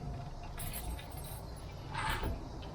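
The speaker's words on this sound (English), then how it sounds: "Have my keys down here." Keys jangle faintly in a hand near a blower rack on a work rig, with a brief brighter clink toward the end over a low steady background hum.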